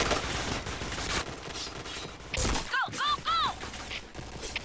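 Gunfire in the shooter game Point Blank, with dense bursts of rapid shots close and loud, then whistling chirpy game effects, while players talk over it.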